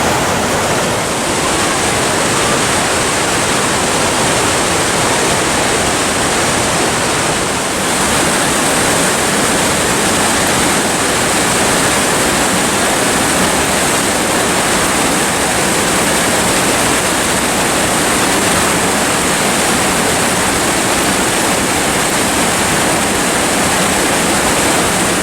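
A waterfall in El Dorado National Forest, California, pours in a loud, dense, unbroken rushing roar that fills the scene from start to finish, heard up close.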